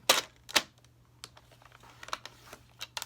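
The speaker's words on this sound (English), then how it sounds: "Now we're going to score it at 2 1/8." Cardstock for a single-fold card is scored with a tool, giving sharp close clicks and short light scrapes at irregular intervals, the first two loudest, over a quiet background.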